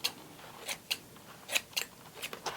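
Scissors trim paper for a Halloween craft, giving a quick series of small, crisp snips close by, irregularly spaced and fairly quiet against a faint background hiss.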